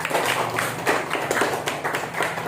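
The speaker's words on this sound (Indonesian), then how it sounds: "Yuk, kasih tepuk tangannya dulu untuk Bang Reza, yuk." Students in a classroom clap for a classmate during a teaching practice lesson, with a short burst of scattered, fairly close hand claps that keeps going steadily to the end.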